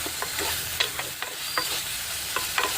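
Black-eyed peas and brinjal cook with tomato in a hot pan, a gentle sizzle punctuated by quick, irregular scrapes and taps of a spoon stirring the curry, close up and without speech.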